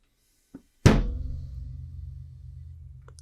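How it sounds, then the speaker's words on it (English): A homebrew vessel's pressurized lid blows off with one sharp, loud thunk, a faint tap just before, then a low rumbling tail fading over a few seconds. "The lid blew off."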